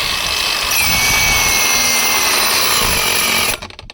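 Cordless Revolt angle grinder running steadily at high speed, a loud continuous whine with broadband grinding noise for about three and a half seconds before the motor cuts out and winds down.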